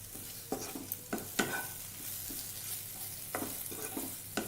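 Spices and onion sizzle gently in a hot pan for cauliflower kurma while a spoon scrapes and stirs in a series of soft, irregular knocks and scrapes over the quiet frying hiss.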